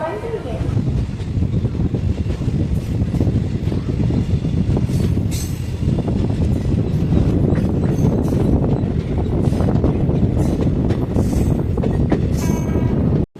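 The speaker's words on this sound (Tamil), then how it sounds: "வந்துட்டா பாருங்க, ட்ரெயின் நம்பர் 13351 சம்பவம் பண்ணக்கூடிய தன்பாத் ஆலப்புழா எக்ஸ்பிரஸ்" Dhanbad–Alappuzha Express, train 13351, arriving at Sankagiri station: a loud, steady rumble of rolling wagons and wheels on track fills the whole stretch, with brief high wheel squeals near the end, wind buffeting and voices talking underneath.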